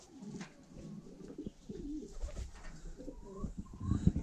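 Pigeons coo steadily in a rustic village pigeon loft, several low, throaty calls overlapping at close range with no voices present.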